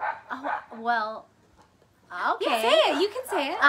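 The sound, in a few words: dog barking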